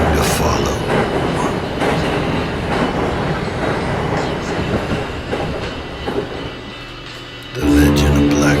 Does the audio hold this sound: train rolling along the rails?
yes